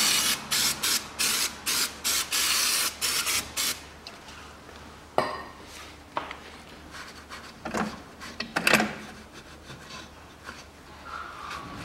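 Cleaner is sprayed onto a part of a 1999 Hyundai Lantra 1.6 in about eight quick, sharp hissing bursts. Quieter rubbing and light clatter follow.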